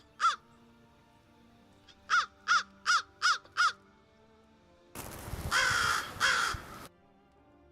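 A crow gives a single loud caw, then after a pause a quick run of five harsh caws, followed by a burst of louder, noisier rustling calls near the end.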